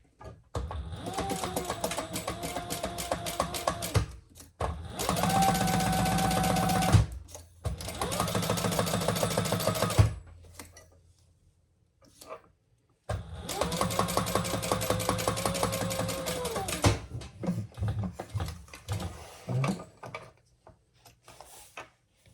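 A sewing machine top stitching a fabric clutch, running in bursts of rapid, even mechanical whirring and clatter, with short stops between runs and quieter handling noises during the pauses.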